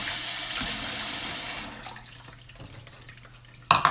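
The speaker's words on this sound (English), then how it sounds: "After I rinse out all the extra sugar that was in there." Tap water runs hard into a bowl for about a second and a half as sugar is rinsed out, then cuts off, leaving quiet kitchen handling and a brief clatter at the end.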